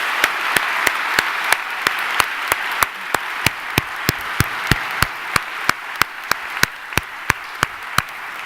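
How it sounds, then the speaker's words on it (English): An audience applauds in a hall, a steady wash of clapping punctuated by regular sharp, loud claps from one nearby pair of hands, roughly three per second throughout. "Please give all of them a round of applause."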